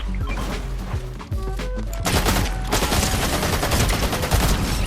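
Gatekeeper shotgun blasts in Fortnite Zero Build mode mixed into a heavy chaotic firefight, with booming shots and crashing impacts growing denser and louder after a quieter opening.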